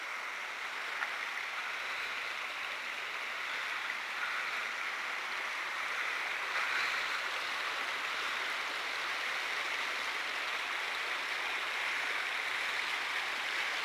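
A river stream flows with a steady, even rushing wash, moderately distant and unbroken throughout, with no talking.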